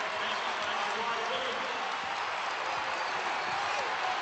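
A college basketball crowd in Chapel Hill during a 2005 UNC–Duke game roars and applauds in a steady, broad wash of sound, with a commentator talking over it.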